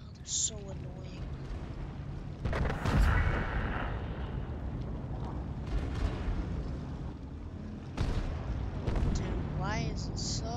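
Tank cannon fire booms in the World of Tanks video game, a heavy blast near the three-second mark and another around eight seconds, over constant engine rumble and game sounds, with a player talking.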